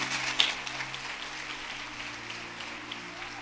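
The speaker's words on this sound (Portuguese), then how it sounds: "Você pode aplaudir a Jesus por isso?" Congregation applause at a church service, a steady, moderately distant wash of clapping that runs throughout without a break.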